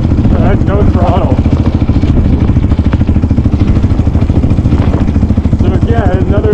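A 2014 Yamaha Raptor 700R ATV with a 50-inch width chugs along in second gear on dirt at low throttle, its steady thumping engine loud and close throughout, with a voice talking over it.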